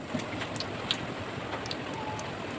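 Steady rain patters and hisses without pause, with a few faint drips standing out over the constant wash of sound.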